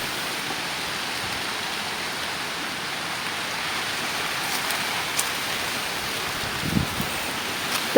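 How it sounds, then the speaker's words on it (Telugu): Steady village rain hissing evenly throughout, with a few soft drips and taps standing out near the end; no talking. "చేసే వాన, ఇది వాన."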